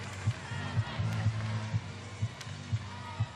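Crowd in Pauley Pavilion at a UCLA gymnastics meet doing the UCLA clap, steady rhythmic group claps about twice per second over a broad arena murmur, distant and moderate.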